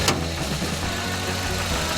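A steady mid-pitched idle from the 6-volt petrol engine of a Mercedes-Benz 180 Ponton, running evenly and close by with a faint knocking texture and no voices.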